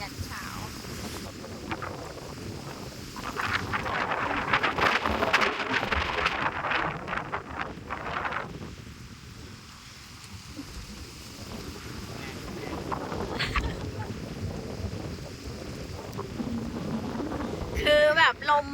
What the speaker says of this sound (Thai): คือแบบลมมาแบบเยอะมากอะค่ะคุณผู้ชม